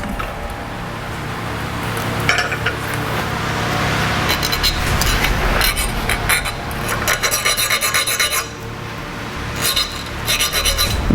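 A file rasps repeatedly across a hardened steel blade clamped in a vise, sharp scraping strokes in bursts, loud and close, with steady background hum.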